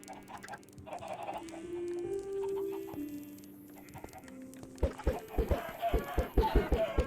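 Chickens cluck in the Minecraft video game, with a few soft clucks and squawks followed by a quick, loud burst of repeated clucking near the end, mixed with other game sounds and no speech.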